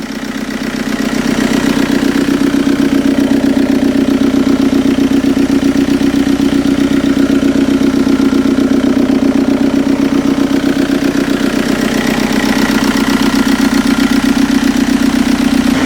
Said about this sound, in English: I'm letting it idle to get up to temperature